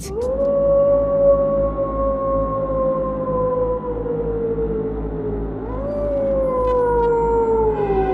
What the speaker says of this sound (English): Balto and Como rushed to the source of the howling.